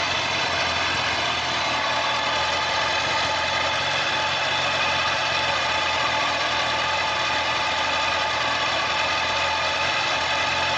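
A motorcycle engine idles at about 1000 rpm while warming up, a loud, continuous and even rumble close by with no break.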